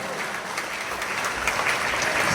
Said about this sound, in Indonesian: Hebat, tepuk tangan untuk kita semua.